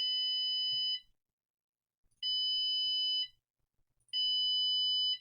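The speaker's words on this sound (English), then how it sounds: "You went beep, beep, beep." Three long electronic buzzer tones sound one after another, each about a second long with short silent gaps between, a high steady beep.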